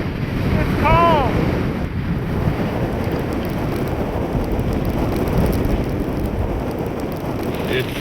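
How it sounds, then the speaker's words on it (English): Wind buffets the microphone on the Cape Cod coast in cold, wet weather, a constant roar with surf-like wash underneath, and a brief voice can be heard near the start. "It's still raining."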